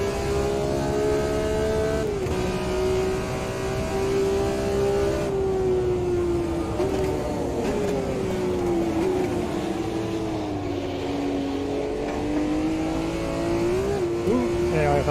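A 1971 race car lapping the Nurburgring in the Automobilista 2 racing game, its engine a loud, continuous drone that rises and falls in pitch with shifts and throttle changes.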